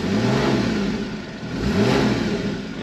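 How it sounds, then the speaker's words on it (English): A 2015 Porsche Cayman GTS sports exhaust revs twice, each burst rising and falling in pitch, loud and close over a running engine. "You might as well hear it and how amazing it sounds with that sports exhaust."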